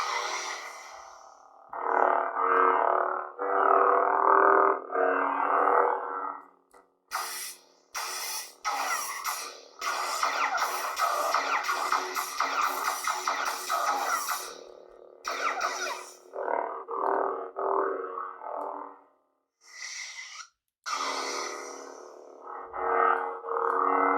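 A series of electronic hums, crackling clashes and buzzy swings from an 89 Sabers MPP lightsaber with a Verso sound board, each burst separated by brief silences, loud and close.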